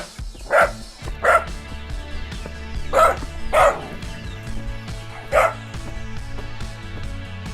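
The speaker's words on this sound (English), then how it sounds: "Small dog." A small dog barks five times in short, spaced yaps, fairly close against a quiet outdoor background.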